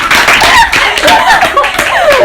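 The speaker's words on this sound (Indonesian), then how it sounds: "Asik. Tepuk tangan." A group claps hands in a dense, continuous patter, mixed with cheering voices and chatter.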